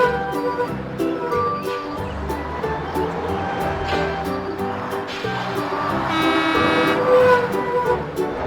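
A bus horn honks in a series of sharp, repeated toots over steady background noise, loud and close, with several tonal blasts running through the stretch.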